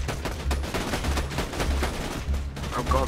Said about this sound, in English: this sniper is gonna eat ammo so fast